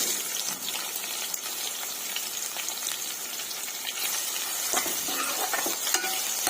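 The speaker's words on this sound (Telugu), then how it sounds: "ఒక మీడియం సైజు ఆనియన్ కట్ చేసి పెట్టుకొని వేసుకుంటున్నానండి." Chopped medium onion added to hot oil with fried spices for a chicken curry, giving a steady close sizzle and frying hiss with light stirring scrapes throughout, no voices.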